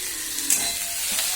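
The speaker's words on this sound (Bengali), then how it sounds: "পূজা এখন রান্না করছে।" Aloo chorchori, a potato curry, sizzles and crackles softly in a pan as it is stirred, a close, continuous frying hiss across a brief moment with no voices.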